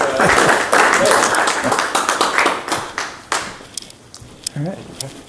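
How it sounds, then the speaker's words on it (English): Audience applause welcoming a guest named Brad at a science talk, a dense burst of clapping that thins out toward the end, with voices murmuring underneath. "If everyone could give Brad a big round of applause for coming out and helping"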